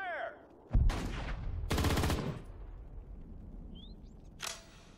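Battle gunfire in the WWII strategy game Sudden Strike 4, with short bursts of rapid shots and a sharp impact amid background combat noise, a brief radio-style voice line near the start and a clipped voice later.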